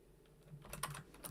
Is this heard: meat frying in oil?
no